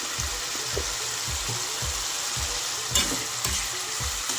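Cauliflower frying with spices and ground turmeric, stirred in a pan: a steady close sizzle with regular rhythmic scraping strokes about twice a second, plus a couple of sharper clinks near the end, no voices.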